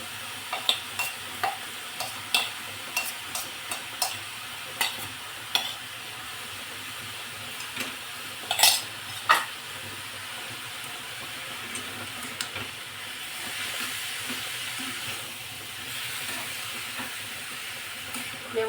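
Cabbage and mixed vegetables stir-fried for a veg momo filling, a soft continuous sizzle broken by a run of sharp spatula taps and scrapes, later settling into gentler frying, no voices.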